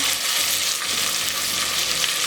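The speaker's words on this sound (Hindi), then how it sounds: "इसको 1 से 2 मिनट के लिए हम भून लेंगे" Tomato fries in a hot pan for dal with salt, red chili powder and turmeric, making a loud, dense, unbroken sizzle with faint stirring underneath.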